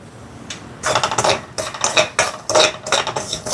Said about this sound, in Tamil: ரவையை கொஞ்சம் கொஞ்சமாக போட்டு வறுத்தெடுப்பேன்.